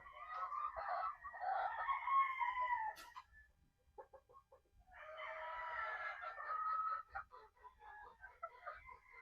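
Pullet chickens crow and cluck on a farm, several drawn-out crows and clucks close by, with a short quiet gap between bursts.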